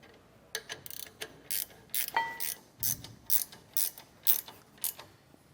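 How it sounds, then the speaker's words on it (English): Ratchet wrench with a 13 millimeter socket tightening bolts on a DeeMaxx disc brake kit for a 2017 K-Z Sidewinder trailer, giving a close, steady run of about a dozen sharp ratcheting clicks with no talk. "make sure you have some threads started before you go tightening it down with the wrench"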